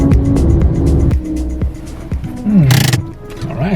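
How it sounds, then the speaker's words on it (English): A car being parked at the entrance to Kravice Waterfalls near Mostar, Bosnia and Herzegovina: a loud, close engine rumbles and rises in pitch while maneuvering, with a brief tire squeal and bursts of hiss. Voices speak briefly. "let's just park the car."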